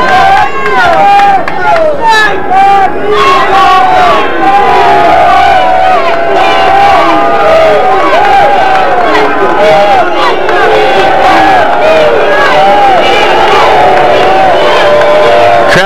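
Crowd noise fills the stands at a 1998 West vs East national championship football game. There is loud, continuous roaring and shouting from many voices, with whistles and cries rising throughout.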